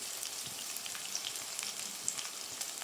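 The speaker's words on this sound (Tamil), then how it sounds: "ஒரு பெரிய வெங்காயத்தை பொடி பொடியாக கட் பண்ணிவிட்டு சேர்த்துடலாம்" Chopped onions with curry leaves and salt sizzle in hot oil in a pan for South Indian potato masala, a soft continuous frying crackle with scattered pops and no voices.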